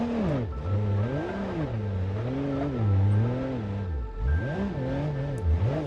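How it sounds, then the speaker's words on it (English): An off-road truck engine in BeamNG strains uphill over slippery logs, its loud rising and falling revs surging in waves as the wheels spin, close and continuous with no talk. "It is starting to struggle. We're spinning the wheels up a little bit here."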